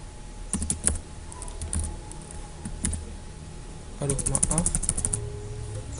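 Computer keyboard typing while entering C++ tutorial code, heard as bursts of quick plastic key clicks, a cluster near the start and a denser flurry after a pause, close and fairly clear over a low room hum.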